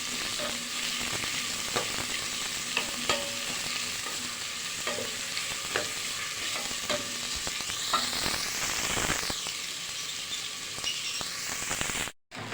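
Coarsely chopped onions sauté in a pan for a beef rendang, giving a steady sizzle with scattered clicks from stirring and a brief louder scrape near the end.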